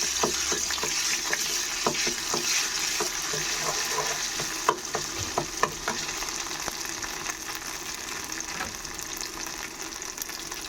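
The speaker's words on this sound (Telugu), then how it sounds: "ఒక స్పూన్ అల్లం వెల్లుల్లి పేస్ట్ వేసుకుంటున్నాను ఇది పచ్చివాసన పోయేలా ఫ్రై చేసేసుకోవాలి" Ginger garlic paste fries in a pan with a steady close sizzle, and a spoon stirs it in a series of sharp scrapes and taps, some louder than others.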